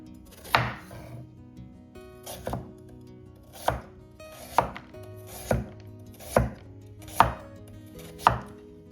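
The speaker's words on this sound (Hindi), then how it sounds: "अब काट लेते हैं गाजर।" Carrots chopped finely with a knife on a board, giving eight crisp, evenly spaced chops that sound close and clear, with no talking.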